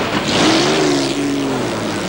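Two-wheel drive class race cars compete in a contact-heavy event, a steady engine drone with a rising and falling pitch as the cars pass, moderately loud with no talk.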